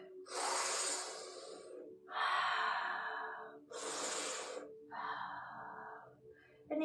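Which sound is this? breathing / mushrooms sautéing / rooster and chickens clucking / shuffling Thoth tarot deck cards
breathing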